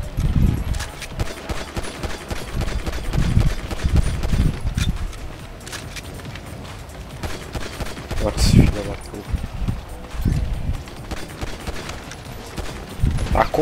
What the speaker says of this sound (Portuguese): Como é que essa pistola deles mata a gente com 3 tiros?